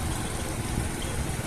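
Motorcycle engine running steadily while riding, one of two bikes on the road, a continuous close rumble with wind noise and no talking.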